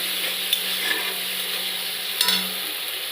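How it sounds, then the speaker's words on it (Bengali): Spices for ghugni are stirred and mixed in a pan with a little water: a steady close sizzle runs underneath, broken by a few brief spoon scrapes against the pan. "এবার ভালো করে নেড়ে চেড়ে মশলাগুলো মিশিয়ে নেব"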